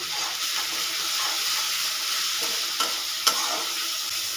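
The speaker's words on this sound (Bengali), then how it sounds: "বাটা মশলাগুলো একটু কষিয়ে নেবো" Green chilli, ginger and garlic paste sautéed in hot oil, a dense steady sizzle with a couple of sharp spatula knocks.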